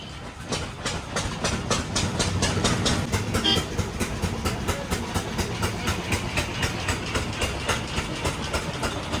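A train rumbles past close by, loud steady roar with a rhythmic clickety-clack of wheels over rail joints throughout.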